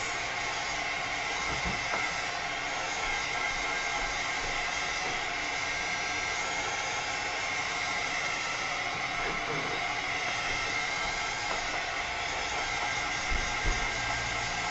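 A hair dryer blows steadily on fluid acrylic paint in purple and yellow for a mixed media junk journal cover, a constant close whooshing hiss that runs unbroken throughout with no talking.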